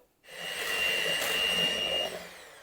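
An electric mixer beats eggs with sugar, switching on abruptly and holding a steady, loud whirring whine for a couple of seconds before starting to wind down.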